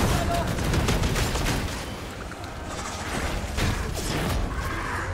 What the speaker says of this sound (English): They've changed it to match the noise in bolt gun.